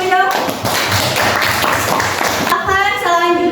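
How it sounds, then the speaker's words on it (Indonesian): Classroom applause breaks out as a group of students clap their hands together, a quick patter of claps under a teacher's voice and children talking nearby. "Tepuk tangan dulu dong."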